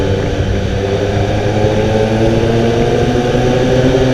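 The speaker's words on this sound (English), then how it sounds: "The bike has been modified with an SC Project GP carbon exhaust for a booming sound." A 2015 Kawasaki Ninja ZX-10R fitted with an SC Project GP carbon exhaust produces a loud, steady engine drone, a continuous deep booming hum that holds at an even level throughout.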